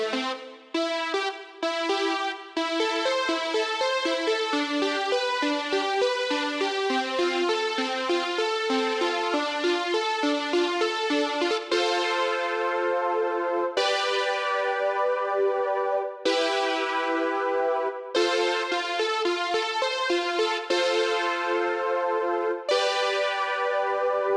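Bitwig Polysynth plays the chords of a song, sustained bright synth chords changing in a steady pattern, with short arpeggiated notes at the start and then held chords cut off by brief gaps.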